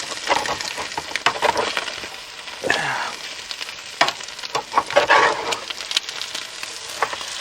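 Food sizzles in a frying pan at a campsite while being flipped, with a crackling hiss broken by sharp scraping bursts of the utensil, loud and close, with no talk.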